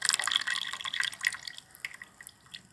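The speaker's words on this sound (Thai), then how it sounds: "น้ำยะนางคั้นเองสด" Freshly squeezed yanang leaf juice dripping and trickling into a bowl, a run of close, quick liquid drips and splashes that thin out toward the end.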